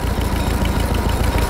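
A homemade tractor assembled from Zaporozhets, GAZ, Moskvich and UAZ parts runs with a loud, rough, steady engine drone and rapid low-pitched pulsing, close by and with no talk.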